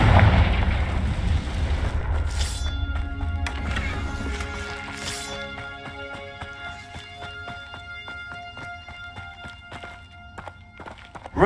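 A Confringo fire-blast spell going off in Hogwarts Legacy, a loud burst with low rumble at the start that fades into lingering tonal game music and ambience, no talking.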